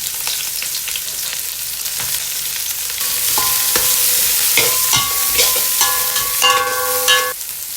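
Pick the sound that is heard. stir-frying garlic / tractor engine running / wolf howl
stir-frying garlic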